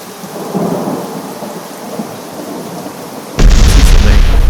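Rain hisses steadily under a low rumble of thunder, then a sudden loud crack bursts in and heavy downpour roars on.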